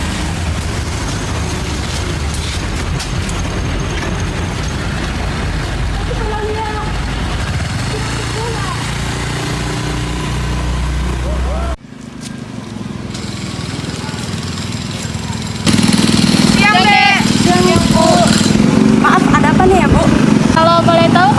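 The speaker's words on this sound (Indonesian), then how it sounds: "langsung melaju mengendarai sebuah motor" An engine drones steadily with a rough, buzzing tone, then cuts out briefly before returning louder, like a motorbike passing or revving nearby, with bird-like chirps in places.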